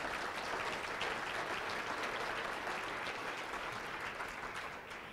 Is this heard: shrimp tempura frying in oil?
no